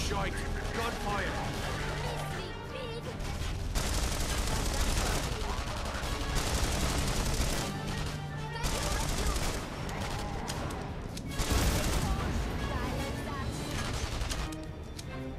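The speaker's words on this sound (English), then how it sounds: "Gunfire!" Dense, sustained gunfire with rapid bursts and heavy booms in the video game The Saboteur, loud throughout, mixed with game music and occasional voices.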